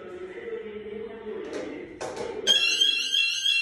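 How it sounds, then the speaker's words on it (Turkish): During an aerosol fire-suppression test, a heat detector triggers a fire alarm. After a muffled hum, a sharp, steady electronic tone starts and keeps sounding loudly to the end. "Isı dedektöründen alarm verdi."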